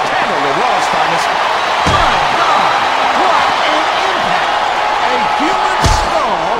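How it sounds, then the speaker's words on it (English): A wrestler's head is slammed against steel ring steps in Smackdown vs Raw 2007, with two sharp heavy impacts standing out over constant commentary and a steady crowd roar. "Human skull slammed against those unforgiving steel ring sticks"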